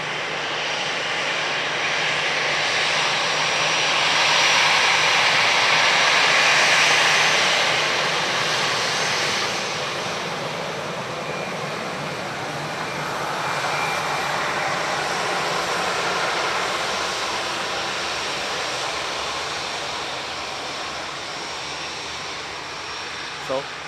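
An Aer Lingus airliner arriving from Naples at Dublin Airport makes a loud, steady engine roar that swells and slowly fades, with a voice speaking over it.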